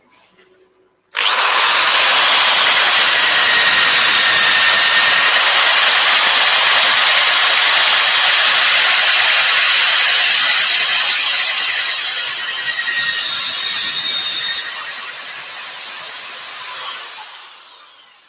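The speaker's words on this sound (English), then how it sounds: "Could probably do with a quieter drill." A loud, high-pitched power drill whines steadily for about fifteen seconds after a brief quiet start, easing slightly in pitch and level before stopping.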